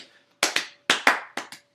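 Six sharp hand claps land in three quick pairs, each crisp and close with a short decay, standing alone after a faint murmur at the start.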